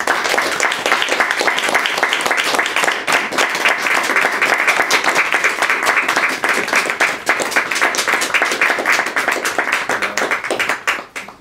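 An audience at an evening poetry reading applauds, dense sustained clapping from many hands at steady loudness for about eleven seconds before tapering off.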